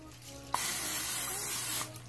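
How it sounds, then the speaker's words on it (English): A can of non-stick cooking spray hisses in one steady burst lasting about a second and a half, close up in a home kitchen before eggs go in the pan. "Some non-stick spray."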